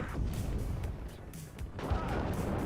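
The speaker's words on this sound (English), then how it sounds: "Oh, here comes the artillery." Artillery fire in the real-time strategy game WARNO, several heavy booming impacts spread over a few seconds against a continuous rumbling battle din.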